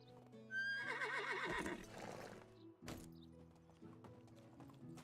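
A horse in the medieval survival game Medieval Dynasty lets out a loud, wavering whinny, followed by snorts and a few hoof clops against a quiet ambient game background.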